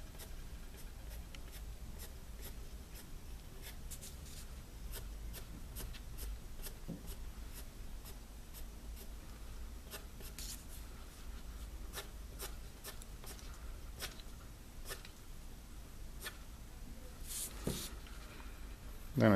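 A pencil shades on paper while a drawing of a Da Vinci flying machine is made, with quiet continuous scratchy strokes in quick, uneven repeated passes, close and faint, and no talk over them.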